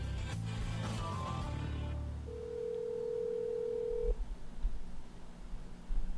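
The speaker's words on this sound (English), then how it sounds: "I'm calling her." A telephone call being placed, with a flat steady dial tone holding for about two seconds after a burst of mixed noise and talk, then cutting off into quieter room noise.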